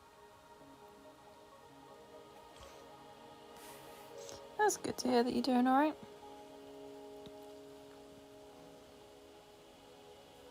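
Constant light rain patters in the background of a Wuthering Waves game scene, a low even hiss persisting while a character speaks briefly in the middle.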